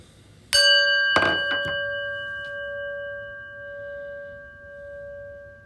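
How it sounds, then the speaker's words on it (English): A single prayer bell is struck once, ringing out with a clear metallic tone, followed by a few soft knocks and a long sustained hum that slowly fades in the quiet. "listen to the prayer bell"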